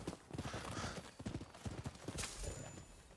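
Horse hooves clip-clop in a steady trotting rhythm while riding in the video game Rise of the Ronin, close and clear over a soft ambient game background.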